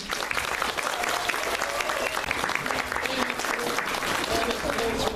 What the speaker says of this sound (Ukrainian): Аплодисменти їм.